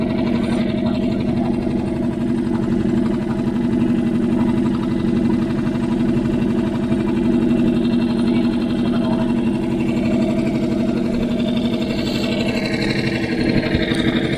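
A boat engine drones steadily at a constant idle-like pace while cruising on a river, close and continuous with no clear changes, and faint voices are barely present underneath.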